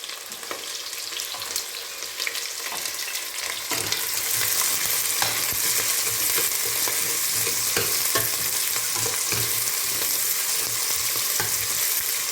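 Onions and spices frying in a pan are stirred steadily, sizzling grows louder after a few seconds and holds as a dense hiss with repeated scraping strokes of the spoon, close and alone.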